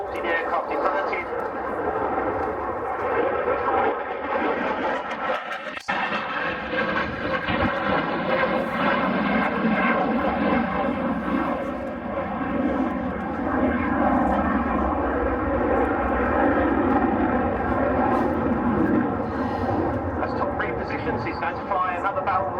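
A jet roars steadily and loudly through a flying display at the Cosford Air Show, a broad continuous rumble and whine that swells and fades slightly as it passes, with an announcer talking over it throughout.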